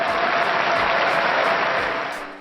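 An audience applauds steadily as a crowd, thick continuous clapping that holds level and then begins to fade at the end.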